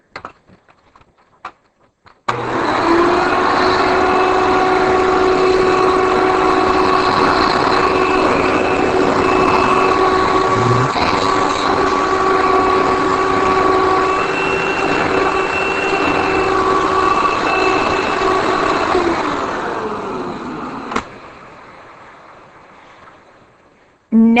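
A 1990 Hoover Elite vacuum cleaner switches on, runs with a steady loud whine and hum for about twenty seconds, then winds down after switch-off.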